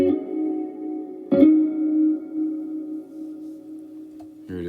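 Electric guitar played through a Sonulab reverb pedal on its own, a sustained chord ringing out with a long wash of reverb, a fresh strum partway through and another near the end, clear and fairly loud.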